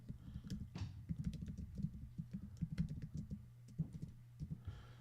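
Quick, light clicks of fingers typing on a computer keyboard, with irregular bursts of keystrokes and brief pauses, close and fairly quiet.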